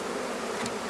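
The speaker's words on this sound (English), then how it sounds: "So I got the bees in there." Honey bees from a package swarm buzz steadily as they are installed into a Langstroth hive, a dense, continuous hum close by with no pauses and no voices.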